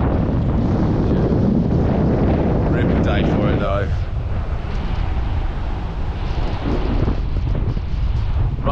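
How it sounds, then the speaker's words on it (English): Strong gusting wind buffets the microphone at a fishing spot during a Kingston fishing competition, a loud continuous roar throughout, while someone talks over it. "It's windy as the wind's already picking up, but it's not as bad as last night."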